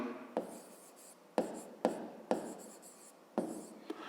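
Handwriting on paper while working a fifth-grade maths exercise: a pen scratches and taps in short strokes, with several sharp contacts at uneven intervals over a quiet background.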